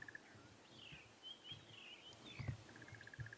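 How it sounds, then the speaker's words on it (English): A crested barbet calls in a subtle dawn chorus on a sunrise safari, a faint rapid trilling run of notes among thin chirps of other birds, distant and quiet. "You can hear the crested barbet."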